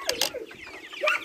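Chickens clucking outdoors on a farm, a few short, close, sharp clucks in quick bursts with a brief pause between them.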